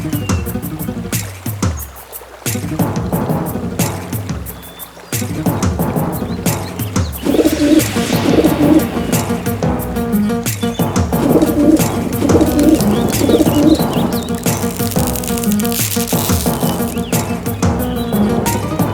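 A pigeon coos repeatedly over a dense, continuous bed of music throughout, its calls partly buried but steady and fairly close.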